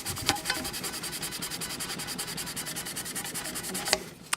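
Rough side of a nail buffer rubbed over a guitar part during kit assembly, a fast, even back-and-forth scratching rhythm, close and fairly quiet, with a couple of sharper strokes.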